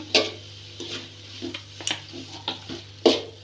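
Prawn masala is stirred in a pan with a utensil, giving soft irregular scrapes and clinks, about eight strokes close by, over a faint sizzle and steady low hum, with no talking.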